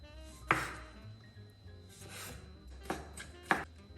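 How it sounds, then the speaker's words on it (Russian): Knife dicing pickled cucumbers into small cubes on a cutting board, a few sharp, close chopping taps spaced unevenly over quiet kitchen background. "Нарезаем огурцы маленьким кубиком."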